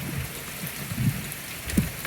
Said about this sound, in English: we have some glorious rain coming down